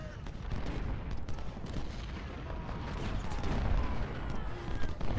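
Massed gunfire in the Civil War strategy game Ultimate General: Civil War, a rumbling, continuous crackle of musketry and distant cannon with heavy low booms, steady and swelling slightly toward the end.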